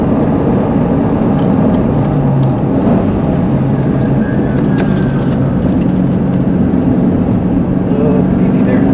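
A sports car driven fast through the corners of a track, some of them wet, with a steady loud engine drone and road roar that run for the whole stretch. A faint voice can be heard under the noise.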